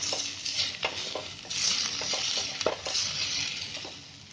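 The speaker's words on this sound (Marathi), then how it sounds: "अद्रक लसूण टाकली आणि कांदा असं थोडासा गरम करून फ्राय करून घ्यायचा." Chopped onion, ginger and garlic fry gently in a hot pan for vangyacha bharit, a soft continuous sizzle close up, punctuated by light scrapes and clicks of a stirring spoon against the pan.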